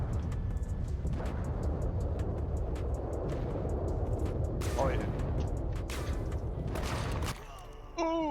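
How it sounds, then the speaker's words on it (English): Orbital strike explosions in the video game SAND: Raiders of Sophie, a continuous rumbling barrage of heavy blasts and booms under the player's voice, with a brief drop in the din near the end before noise returns. "We're gonna pop an orbital strike on them."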